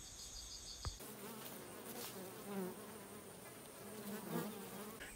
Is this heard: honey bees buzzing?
yes